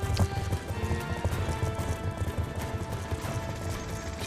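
Horse hooves clip-clop in a rapid, continuous rhythm in the video game Call of Duty Black Ops II, set in an Afghanistan camp. Game noise and a brief whinny mix in with the hoofbeats.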